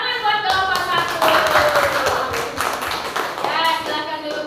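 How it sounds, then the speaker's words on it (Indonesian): Schoolchildren clap for a group of classmates in a primary classroom lesson, rhythmic hand claps close by mixed with children's voices and chatter throughout. "tepuk tangan buat kelompok 1"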